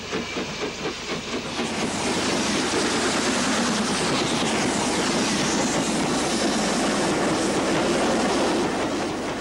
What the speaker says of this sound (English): This Black Fives partially fitted freight is banked by one of T-Bay Shed's Class 4 tanks.